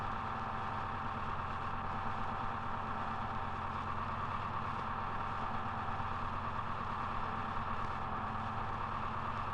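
A big lift truck's engine idles steadily and continuously, a loud, close, unbroken mechanical hum with a low throbbing rumble and no voices over it.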